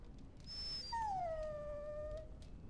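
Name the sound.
dog whimpering in the video game Dragon Age: Origins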